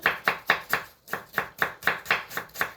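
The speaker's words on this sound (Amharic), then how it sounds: "ሴት ልጅ ሽንኩርት ስትከትፍ መክተፊያ ማጫው የለበትም" A knife chops an onion on a cutting board in quick, evenly spaced sharp knocks, about eleven strokes with a brief pause near the middle, close and crisp with no talk.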